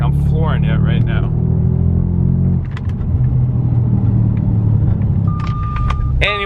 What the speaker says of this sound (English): Even this one is bogging down, like I'm flooring it right now.